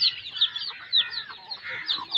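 Hens on a chicken farm give short, repeated clucks and squawks, close and moderately loud, with no talking over them.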